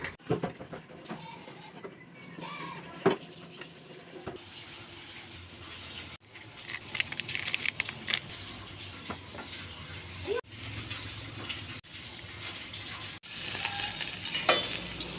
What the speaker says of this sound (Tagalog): ihalo ko na gulay sa aking pansit